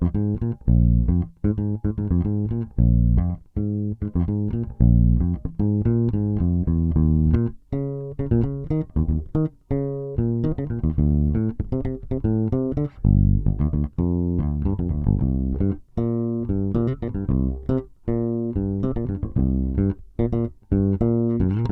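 A bass guitar plays a steady, continuous walking line of plucked notes moving between roots, fifths, flat sevenths and octaves of a Mixolydian scale, with no other instruments or voices.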